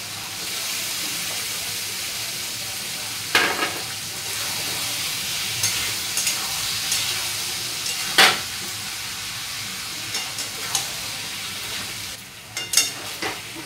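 Fried potatoes and soaked soybeans sizzle steadily in spiced oil for a Bengali curry, with occasional louder scraping stirs of a spatula against the pan.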